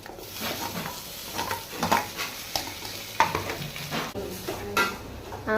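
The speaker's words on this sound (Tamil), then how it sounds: "வெங்காயம் நமக்கு நல்லா கோல்டன் ப்ரௌனாக வதங்கிடுச்சு" Onions sauté golden brown in a pan for a goat blood stir-fry, with an ongoing sizzle broken by repeated scraping and tapping strokes of a stirring spoon, close and moderately loud.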